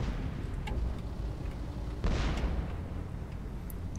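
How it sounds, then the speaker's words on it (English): Bombs dropped from a PV2-D Harpoon plane in War Thunder land with one loud, booming explosion midway, rising out of a steady low rumble of engine and distant battle noise. "Okay, time to bomb this shite."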